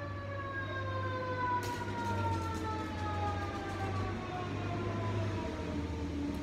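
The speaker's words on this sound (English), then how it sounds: "And now there's a siren." A fire engine siren from a nearby firehouse sounds as a steady wailing tone that slowly falls in pitch, fairly faint under a constant low background hum.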